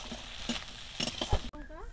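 Onion and green chilli frying in a pan, with a close steady sizzle and several spatula scrapes. The frying cuts off abruptly near the end, and a faint high warble follows.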